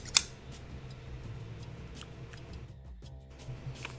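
Scissors snipping 1 mm thermal pads during an RTX 3090 graphics card teardown, a few quiet, sharp clicks and snips spread over a hushed room.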